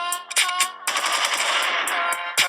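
Short gun sound effect dropped into a rap beat: rapid machine-gun-like bursts over a sustained tonal music bed, loud and close, with sharp transient hits at the start and end.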